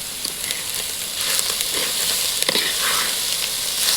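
Drumstick leaves sautéing with cardamom in a pan give off a steady, close sizzle, with faint stirring scrapes and no voices.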